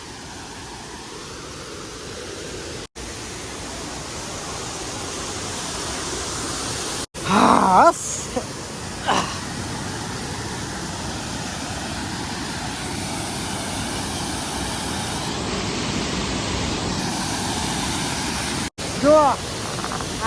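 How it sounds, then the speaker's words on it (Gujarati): After monsoon rain, the Nakhal waterfall in Kawant rushes as a broad, steady roar of falling water that fills the scene, with brief voices and a few short interruptions breaking in. "આ છે નાખલનો વોટરફોલ."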